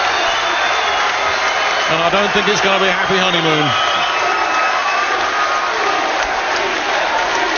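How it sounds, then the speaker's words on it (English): A hometown crowd in Doncaster cheers and applauds loudly after a bantamweight triple belt title boxing fight, a dense roar under a commentator's voice. "it's the hometown fans from Doncaster that are cheering"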